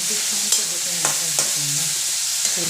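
Garlic masala sautéing in a pan, a steady bright sizzle with a few spatula clinks and stirs, close and fairly loud.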